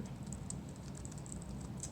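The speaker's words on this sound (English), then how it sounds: "I'm actually typing it." Computer keyboard typing in a quiet room, a steady run of light, quick keystrokes with a few sharper taps, soft and close, with no voices.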